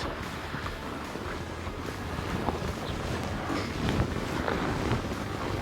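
Gusty wind buffets the microphone outdoors while a pop-up hub shelter is being set up, a faint, rough rushing that swells and eases unevenly with no talking.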